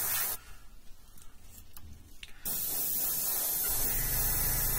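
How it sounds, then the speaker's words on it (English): Spray paint hissing onto a Batman figure prototype during a build and paint-up, first a short burst, then a pause with faint sounds, then a long steady close-up hiss. "I can overlap some of these other areas I spray too"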